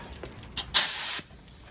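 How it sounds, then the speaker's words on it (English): An air nozzle blows off a transmission valve body in a short hiss: a brief puff, then a sharper blast lasting about half a second, close and fairly loud against quiet shop background. "we're going to take our air nozzle and we're going to actually blow that off"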